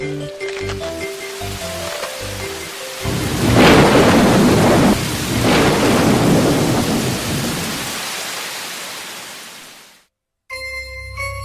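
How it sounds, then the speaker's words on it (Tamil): Heavy rain pours down in a thunderstorm in a Tamil cartoon, with loud rolling thunder swelling in the middle and fading out before a sudden cut to quiet music. "அட, என்ன ஒரு மழை!"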